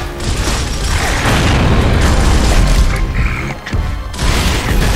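A grenade blast in the video game Gears of War gives a loud, dense booming rumble with crashing debris that runs for a few seconds and briefly dips near the end.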